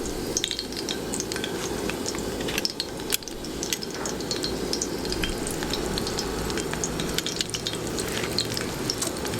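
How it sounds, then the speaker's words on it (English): Steady, dense sizzling and crackling of fish frying in hot oil, loud and close, continuing without pause. "we're trying to just get this oil as hot as we can, and then we'll start frying"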